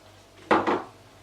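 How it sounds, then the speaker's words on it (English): Browning sauce bottle being opened in a home kitchen while seasoning oxtail: two quick, close cap clicks or twists in a row, brief and clear against a quiet background. "If I could get the bottle open today, that'd be great."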